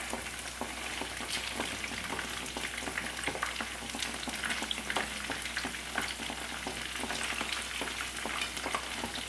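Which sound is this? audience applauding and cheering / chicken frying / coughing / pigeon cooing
chicken frying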